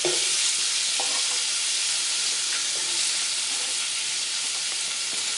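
Sliced onions for French onion soup sizzling in a hot pot, a loud, steady frying hiss with faint stirring clicks, continuous and without talk.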